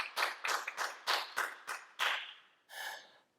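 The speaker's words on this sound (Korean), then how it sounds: "박수로 영광 돌리겠습니다." A worship congregation claps in a church service, about seven sharp distinct claps in quick rhythm, close and fairly clear, followed by a short breathy exclamation.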